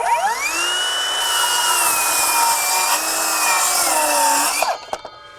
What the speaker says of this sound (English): Let's get out some 2x lumber and do some cross cuts.